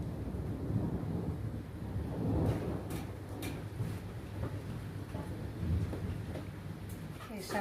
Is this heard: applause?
no